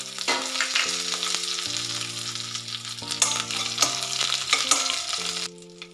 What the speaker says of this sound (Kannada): ಈಗ 1 ಗರಿಯಷ್ಟು ಕರಿಬೇವನ್ನು ಸೇರಿಸ್ತಾ ಇದ್ದೀನಿ.